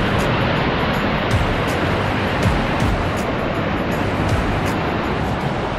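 Swollen high river rushing loudly on the Paramillo del Quindío trail in 2021, a dense, steady roar of water filling the whole clip without pause.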